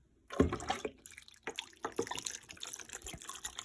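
Water poured into a roasting pan with broth for a home supper, a close splashing, trickling pour lasting a few seconds with some clinks, no talk.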